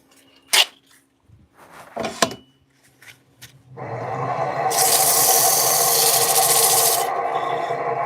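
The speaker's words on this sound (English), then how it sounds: "Let's sand this bad boy. Get some 220." Wooden birdhouse sanded with 220-grit paper while spinning on a lathe: a steady, loud abrasive rasping hiss that starts midway after a few scattered knocks and handling sounds, then runs continuously to the end.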